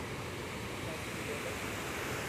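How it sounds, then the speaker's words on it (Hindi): Chhoie waterfall in Himachal Pradesh roars as a dense, steady rush of falling water, close and loud with no break. "हम जो है पहुँच चुके हैं छोई वाटरफॉल में"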